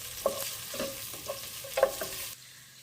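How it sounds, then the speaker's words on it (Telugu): Chopped onions fry in a pan for a mutton chops dish, a steady soft sizzle broken by a few sharp stirring scrapes and clinks, ending abruptly into near silence. "ఆనియన్ ఫ్రై చేసుకోవాలి"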